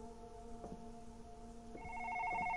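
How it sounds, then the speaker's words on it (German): A telephone rings in the video game Past Cure, with repeated electronic ring bursts that grow louder and brighter toward the end, clear and alone with no talk. "Telefon."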